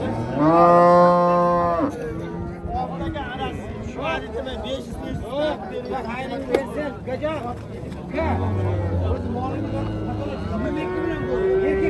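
Cows, including Simmental, moo repeatedly in long, loud calls amid the busy hubbub of a livestock market crowd, with people talking throughout.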